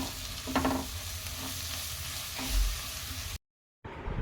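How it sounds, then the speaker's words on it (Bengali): A spice paste of ginger, turmeric and chilli powders fries and gets stirred in a pan, a dense sizzle with scraping strokes, cut by a brief silence near the end. "এবার আমি এখানে একটু আদা বাটা, হলুদ গুঁড়ো, লঙ্কার গুঁড়ো, আর একটু কাশ্মীরি লঙ্কার গুঁড়ো, আর একটু ধনে জিরের গুঁড়ো দিয়ে ভালো করে মশলাটাকে আমি কষিয়ে নেব"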